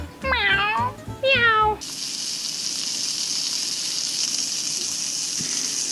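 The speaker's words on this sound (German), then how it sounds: "Miau. Miau. Miau. Miau. Miau. Miau." A cat gives two loud, clear meows close by, then the sound gives way to a steady sizzling hiss.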